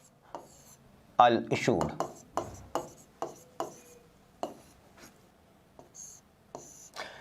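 Pen writing on paper while working through a share-allotment accounts problem, a series of short scratchy strokes in uneven rhythm, close and quiet, with a brief spoken phrase over it.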